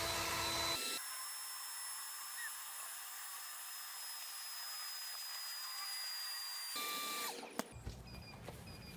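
A Kobalt 80V cordless leaf blower holds a steady, loud whine as it runs until its battery dies, then the motor winds down and cuts out, leaving a few faint clicks and handling sounds.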